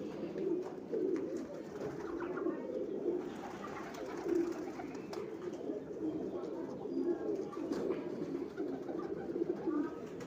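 Pet breeder pigeons coo in soft, repeated throaty rolls, close by and fairly quiet, with faint chirps and low background noise between calls.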